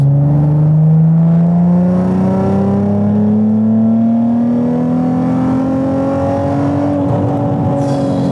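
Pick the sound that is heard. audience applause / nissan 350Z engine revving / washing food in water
nissan 350Z engine revving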